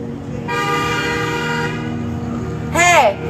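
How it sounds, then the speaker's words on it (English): A car horn gives a short loud honk near the end, cutting over a sustained droning tone and street noise at a Santa Monica protest march. "You don't beep at people."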